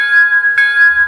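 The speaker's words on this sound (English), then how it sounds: "There's the bell." A locomotive bell from a Soundtraxx Tsunami DCC sound decoder, installed in a brass J-1 model, rings loud and clear with a sustained metallic tone and a fresh strike partway through.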